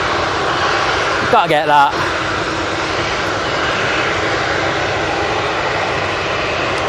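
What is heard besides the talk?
Cathay Pacific jet airliner taxiing out at Manchester Airport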